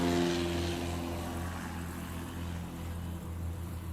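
A STOL aircraft at a competition in Clarion, Pennsylvania throttles up for takeoff, its propeller engine droning steadily with strong low harmonics, fairly loud and slowly easing off, with no speech.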